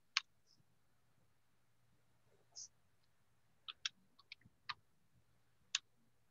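Isolated keystrokes tap on a computer keyboard as a chmod command is typed, about a dozen sharp, faint clicks spaced irregularly over a quiet low hum.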